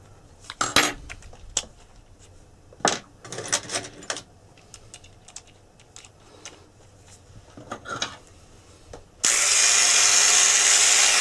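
A part from an early Scottish tall case clock being polished: metallic clinks and scraping touches come in irregular bursts, then a loud steady whirring rotary tool starts and runs to the end.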